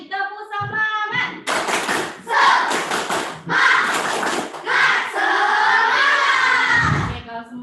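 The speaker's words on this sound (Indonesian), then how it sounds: "Coba sekali lagi, tepuk semangat." A group of children performs the Indonesian tepuk semangat rhythmic clapping chant, with bursts of loud claps mixed with shouted voices in a classroom while a teacher leads.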